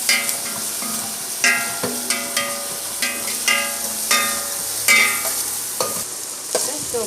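A spatula scrapes and stirs onions frying in sauce in a pan for gobi manchurian. Repeated sharp metallic strokes come every second or so over a steady sizzle, close and fairly loud, with no voices.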